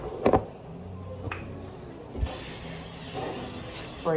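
Sharp hissing bursts from a spray bottle misting sauce onto naan bread in a home kitchen, a few brief taps first, then a sustained close, loud spray lasting about two seconds.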